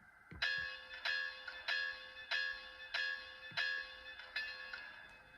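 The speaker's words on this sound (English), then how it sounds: "Now we're going to listen to the bell." A small bell on an HO scale Southern Pacific MT-4 model locomotive rings steadily, about eight evenly spaced clangs with a bright metallic tone, each decaying before the next strike.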